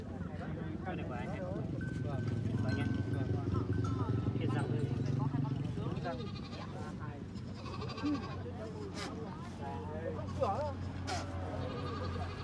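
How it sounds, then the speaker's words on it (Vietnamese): Goats bleat repeatedly at a busy mountain goat market in Vietnam's northwest ahead of Tet, their cries rising over steady crowd noise and nearby talking. "Ở dưới kia thì có một con dê to nữa kìa."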